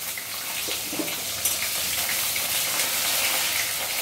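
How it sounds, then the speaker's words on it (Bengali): Sliced bitter gourd sizzles and fries in hot oil in a wok, a steady bright crackling hiss heard close up and alone. "আমরা উচ্ছেগুলো আগে ভালোভাবে ভেজে তুলে রাখবো"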